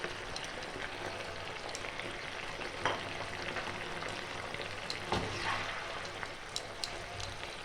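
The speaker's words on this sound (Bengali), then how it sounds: "এইটা ভালো করে এবার ফুটিয়ে নেবো আমি" Bengali-style mushroom chilli sauce bubbles and sizzles in a pan, a steady close hiss with soft scattered pops and occasional stirring scrapes.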